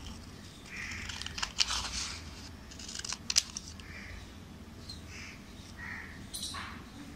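Scissors snipping through paper to cut out a triangle shape for a children's craft, a few short crisp cuts close by against a quiet room hum.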